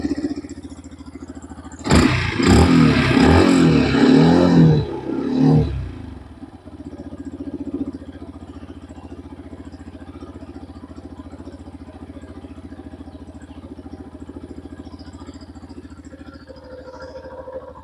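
A Yamaha FZS 149cc fuel-injected hybrid motorcycle engine fires up with a loud, rough burst of revving for a few seconds, then settles into a low, steady idle hum that runs on with no talk.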